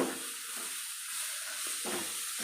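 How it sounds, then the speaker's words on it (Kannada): Fenugreek leaves fry with chicken in a pan for a dry methi dish, producing a soft, continuous sizzling hiss broken by occasional stirring scrapes. "ನಾವು ಇವಾಗ ಮೆಂತೆ ಹಾಕೋಬೇಕು ಮೆಂತೆ ಸೊಪ್ಪು ಚೆನ್ನಾಗಿ ಮೆತ್ತಗಾಕಬೇಕು ಅಲ್ಲಿವರೆಗೂ ಫ್ರೈ ಮಾಡ್ಕೊಳ್ಳಿ"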